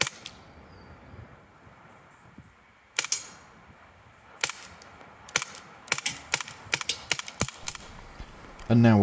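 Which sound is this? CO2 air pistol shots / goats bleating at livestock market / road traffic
CO2 air pistol shots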